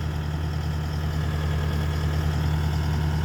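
A Sumitomo SH130-6 excavator idles with a steady, low diesel drone and a faint rhythmic knock, heard close and continuous without pause.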